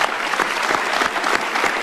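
A live TV studio audience at an Indonesian presidential talk event breaks into loud, sustained applause, dense clapping throughout with no talking.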